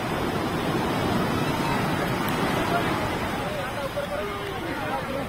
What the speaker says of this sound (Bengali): ওই দেখ কত পাহাড়ের মতন ঢেউ আসছে।